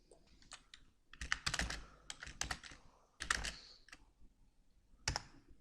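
Typing on a computer keyboard while writing in Microsoft Word: quiet, irregular bursts of key clicks and taps, some closely clustered, with short pauses between runs and no talk.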